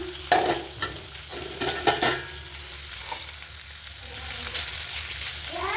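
Spices for mutton curry sizzle and fry in a pan while a utensil stirs and scrapes through them. There are several clattering strokes early on, then a softer, continuous sizzle, close and without talk.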